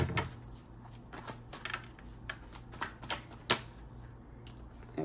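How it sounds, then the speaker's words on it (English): Tarot cards shuffled quickly by hand during a reading, giving a close series of crisp, dry riffling clicks and taps with no talking. "That was a quick shuffle."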